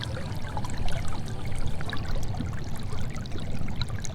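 River water runs steadily with a close, continuous trickle and burble and scattered small splashes, heard without voices.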